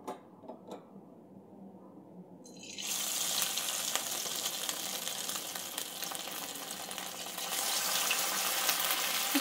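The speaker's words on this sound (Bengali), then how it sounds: "একটু লালচে করে ভেজে নেব প্রত্যেকটা চিকেনের পিস" Chicken pieces frying one by one in white oil in a wok: after a few quiet seconds, a loud, steady sizzling hiss starts and carries on unbroken, close up and with no voices.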